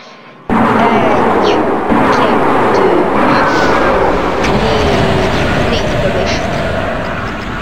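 In Doom 2, a weapon fires a few loud booming shots that blend into a sustained, heavy rumble, heard close and dominant.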